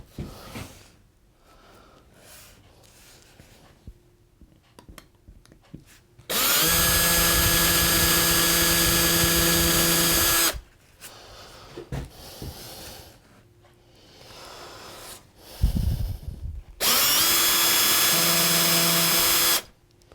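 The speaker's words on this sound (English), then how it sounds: "so now I'm going to drill my holes where they go" Power drill boring holes for a sign overlay, two long sustained high whining runs of steady motor drone, loud and close, separated by quieter handling noises and brief knocks.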